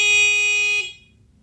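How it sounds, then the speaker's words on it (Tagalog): Stock horn on a Honda TMX 155 motorcycle, sounded with the engine off: a single steady electric beep held for just under a second, then cut off cleanly. "Stock horn"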